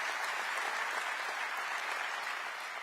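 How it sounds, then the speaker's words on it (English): Steady, dense applause from a large audience at a city address, filling the room evenly at a moderate distance. "Yes, clap for that."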